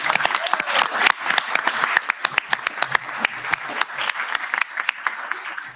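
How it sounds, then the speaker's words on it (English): Audience applause at a school recognition ceremony for students' accomplishments, a steady, dense burst of many hands clapping with sharp individual claps standing out, loud and close throughout. "we can pause for applause right there"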